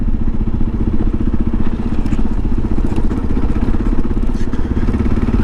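A 2022 Kawasaki KLR650 motorcycle riding on dirt, its single-cylinder engine thumping steadily and loud up close, with gravelly crunch and clatter from the ground throughout.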